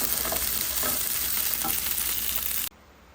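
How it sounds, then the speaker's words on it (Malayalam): Potato sautéed and stirred into a chicken curry, a loud close sizzle with a few soft spoon scrapes, cutting off abruptly near the end. "പൊട്ടറ്റോ നന്നായിട്ട് വഴറ്റിയെടുത്ത് ചിക്കനിലേക്ക് മിക്സ് ചെയ്യും"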